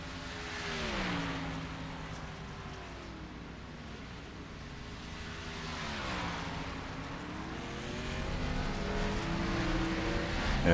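Race cars in a Daytona racing video game leave pit road, engines droning and rising and falling in pitch as they accelerate away, steady and moderately loud with no talk.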